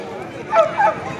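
At a dog show in Parbhani, a puppy gives two quick, high yelping barks close by, set against a murmur of crowd noise.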